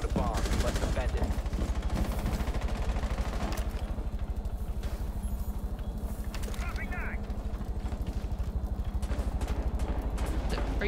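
Rainbow Six Siege gunfire: sustained rapid automatic bursts with clattering weapon mechanics, loud and continuous, with a voice speaking at times.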